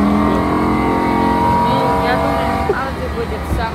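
A car engine revs at the 2020 Los Angeles auto show, a steady loud drone with rising and falling pitch, heard close amid a busy hall with people talking in the background.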